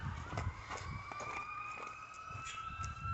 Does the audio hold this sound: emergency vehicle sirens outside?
yes